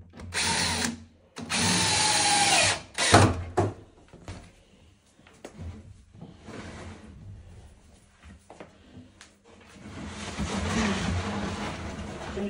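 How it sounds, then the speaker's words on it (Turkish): A cordless drill whirs in two loud bursts while assembling a washing machine cabinet, followed by clattering and handling noises and a quieter, longer drilling hum toward the end. "şarjlı matkap ihtiyacınız var kurulum yaparken"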